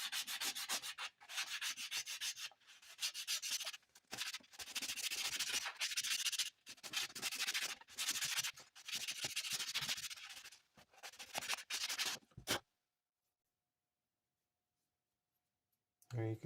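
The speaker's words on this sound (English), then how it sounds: "hold the sandpaper in my hand and just go to town here" A homemade crankbait is sanded by hand with 220-grit sandpaper, making close, rhythmic scratchy rubbing strokes in repeated bursts, followed by silence.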